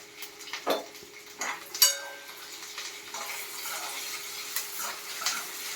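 Curry leaves and spices fry in a pan for mango pulihora, a soft continuous sizzle with sharp metallic clinks and taps of a spoon against the pan near the start.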